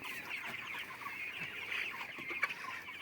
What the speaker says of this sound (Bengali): ছাদের মুরগিগুলো এটা বড় আছে